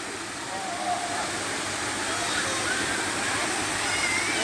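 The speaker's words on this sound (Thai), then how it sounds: "มีน้ำไหลมีน้ำตกสวยงามครับน้ำตกใหญ่เลย" A large waterfall at Erawan in Thailand, with shallow water where children play, roars as a steady, loud broadband rush of falling and flowing water throughout. Faint voices mix into the wash.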